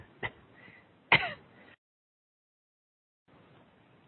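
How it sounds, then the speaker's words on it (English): A man gives a couple of short, sharp throat-clearing coughs, close and fairly quiet, followed by a stretch of silence and faint room noise. "Have an interesting little cough here that wasn't there an hour ago."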